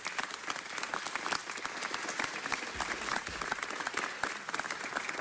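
Audience applause at a city council meeting, a sustained round of clapping from a seated crowd filling the room, steady and moderately loud throughout.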